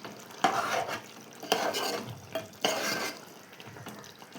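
A tomato and meal maker curry with kasuri methi stirred in a pan, with repeated scraping strokes of the spoon and a faint simmering sizzle underneath, close and fairly soft.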